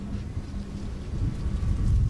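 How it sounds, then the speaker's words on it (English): A TV-show thunderstorm with steady rain and a low rumbling of thunder that swells toward the end, loud and continuous with no talking. "Storm's coming."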